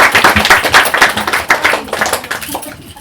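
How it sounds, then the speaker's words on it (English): An audience at a drama and writing camp claps for the participants, a close, brisk burst of hand claps with uneven rhythm, tapering slightly toward the end. "give them a round of applause"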